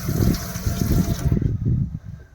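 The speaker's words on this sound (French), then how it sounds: "Ici un évier en inox avec un robinet à contacteur." Water runs steadily from a contact-switch tap into a stainless steel sink in a VW Transporter T6.1 camper van for over a second, then stops abruptly, leaving a quiet tail.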